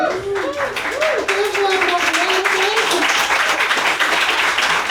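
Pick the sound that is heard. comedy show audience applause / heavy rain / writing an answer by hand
comedy show audience applause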